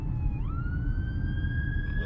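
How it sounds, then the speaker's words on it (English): Ambulance siren passing close by, a loud steady wail that rises in pitch partway through over rumbling traffic noise. "a little ambulance coming"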